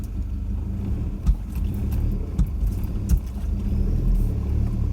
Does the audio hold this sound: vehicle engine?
yes